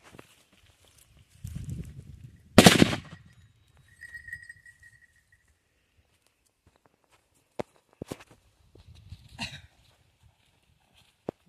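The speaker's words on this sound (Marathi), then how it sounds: "एक बॉम्ब काय आलं, एक याच्यावर वाजला आणि एक साईडला वाजला" Firecrackers going off on and beside a coconut outdoors: one loud sharp bang, then a few fainter pops and clicks after quiet gaps.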